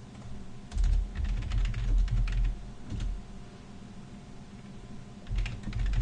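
Scala code being typed on a computer keyboard, a quick, irregular clatter of soft key taps in short bursts with brief pauses, close and fairly quiet, with no talking.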